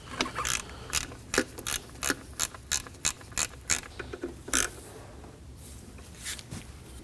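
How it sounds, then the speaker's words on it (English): Ratchet clicking in quick bursts while three 10 mm bolts are snugged down on the covers of a 2003-2006 Subaru Baja during an oil pressure sender replacement, close and crisp with short pauses between runs. "Now we can run through and tighten down our three 10 millimeters."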